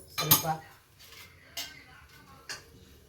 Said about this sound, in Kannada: ಒಲೆ ಹಚ್ಚಿದ್ದೀನಿ, ಬಾಣಲೆ ಇಟ್ಟಿದ್ದೀನಿ.